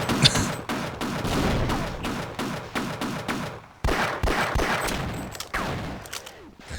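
Half-Life gunfire comes in rapid, loud bursts of repeated shots that crack and echo at close range, dropping briefly before another volley.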